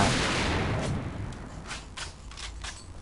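Sniper rifle fire while crouching in the video game AVA: a loud shot whose echo decays, then a quick run of several sharp cracks close together.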